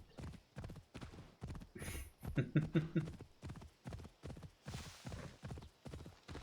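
Horse hooves clip-clop in a brisk, steady rhythm in the video game Assassin's Creed Odyssey, close and clear, with a brief whinny and some faint background effects partway through.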